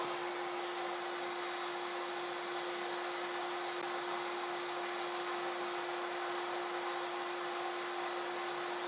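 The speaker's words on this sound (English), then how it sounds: "So I'll have to drill another hole here." A steady high-pitched whine of a power drill runs continuously and evenly, close and without pauses or voices.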